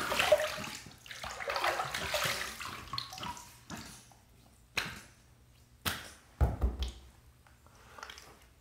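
Running water rinsing a razor during a wet shave, a steady splashing stream at the start that fades, followed by a few short sharp taps and splashes, fairly quiet and close.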